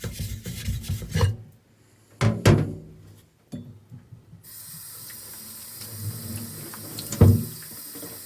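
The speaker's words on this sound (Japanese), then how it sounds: "なので、この砥石をまっすぐ面直しする必要があります。" A finishing whetstone being flattened with water: rough gritty rubbing strokes and a few thunks, a quiet gap, then a steady wet hiss under more intermittent scraping.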